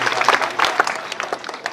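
Applause from an audience at a school annual prize distribution ceremony, a dense burst of many hands clapping together, fairly loud and lively throughout the short stretch.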